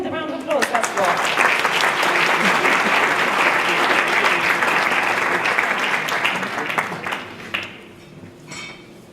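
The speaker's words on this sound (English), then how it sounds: "can we give them a very warm welcome with a round of applause" A warm round of audience applause welcoming Uyghur musicians at an awards gala, loud and sustained clapping from a large crowd with some voices mixed in, tapering off near the end as a faint clink sounds.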